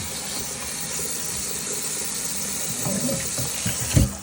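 Steady running water pours and splashes continuously as a Sanitaire SC930A Hydroclean floor washer's filter is rinsed, with a small clunk near the end.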